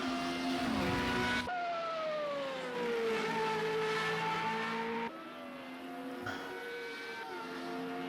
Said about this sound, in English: That's Weary Night and Illogical Sport now come up the front straight to start their final laps.